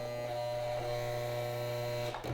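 A sewing machine motor hums steadily at close range, a constant electric whine that cuts off abruptly near the end.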